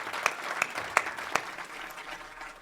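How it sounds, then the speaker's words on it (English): Live podcast audience applauding a guest, a steady wash of clapping with a few sharper claps standing out, tapering off toward the end. "Huge round of applause for John Thornton from Surreal."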